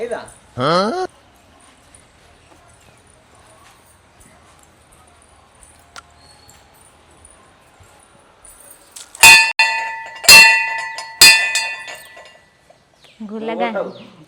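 A temple bell rings out three times in close succession, each strike leaving a bright metallic ring, with brief talk before and after.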